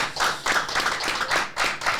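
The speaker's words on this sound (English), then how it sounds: "If we could give Jeremy a round of applause." A small live-show audience applauds a guest, brisk clapping in uneven bursts that swell and dip over a couple of seconds.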